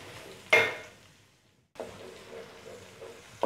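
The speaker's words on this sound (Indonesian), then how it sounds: "Kita tumis sampai harum, sampai wangi ya." Blended spice paste hits a hot pan for sautéing, giving a sharp sizzling burst followed by a fading hiss, then renewed frying crackle with utensil scrapes and stirring, close and moderately loud.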